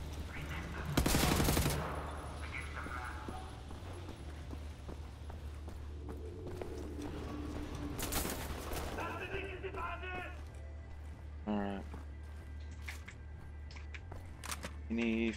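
Gunfire and bullet impacts in the video game Wolfenstein: The New Order, with a loud burst early on and scattered shots amid a steady rumbling game soundtrack.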